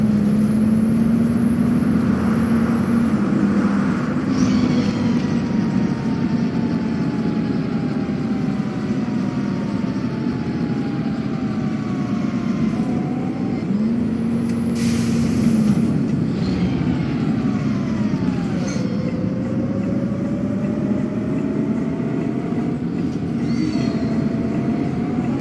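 A Mercedes-Benz Facelift G articulated city bus on route 62 in the OMSI 2 Städtedreieck V3 map, its engine droning steadily with rising and falling gear whine as it accelerates and slows, loud and continuous without speech.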